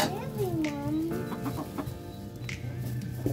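Backyard chickens cluck and squawk close by while they are given water, a busy run of calls over a low background, with a person talking faintly among them.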